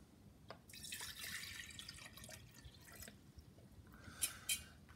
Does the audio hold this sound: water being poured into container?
yes